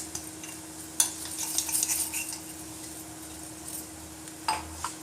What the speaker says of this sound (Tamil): இப்போ இந்த ராகி ஆட்டாவை சேர்த்துடலாம்.